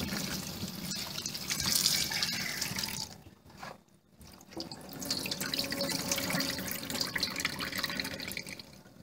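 Ackee fruit being washed in a container of water, with steady running and sloshing water close by, a brief dip in the middle and no talking.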